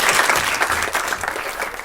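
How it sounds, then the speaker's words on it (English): A crowd at a Murderous Maths talk bursts into a brief round of applause, many hands clapping in a dense, even patter with no talking over it. "Give me a round of applause"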